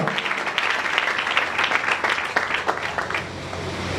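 A church congregation applauds loudly for the Lord, a dense continuous wash of many hands clapping that fills the space and tapers slightly toward the end, with faint voices mixed in.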